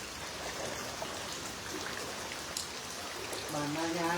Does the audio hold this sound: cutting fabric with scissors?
no